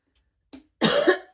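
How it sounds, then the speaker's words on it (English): A single loud, harsh cough bursts out alone, preceded by a short quieter throat sound, with a brief onset of another noise at the very end. "Excuse my coughing there."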